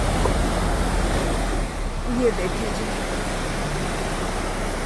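Waterfall flowing beside a small wooden bridge in Basho valley, a steady, broad rushing wash heard close by, with someone speaking briefly over it.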